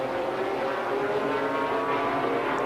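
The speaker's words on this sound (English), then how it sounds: "Running its own big boost Porsche engine" The Freisinger Porsche GT race car's big-boost engine roars steadily at the Nürburgring in a 1995 BPR Global GT Series race, a loud, sustained howl without any voices.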